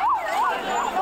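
An ambulance siren wails at the Hingot fire-arrow battle in Indore, a post-Diwali event where gunpowder-filled arrows are thrown. The loud, steady rising-and-falling tone repeats about three times in quick succession, with no voices in the foreground.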